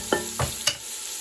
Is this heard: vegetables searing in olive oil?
yes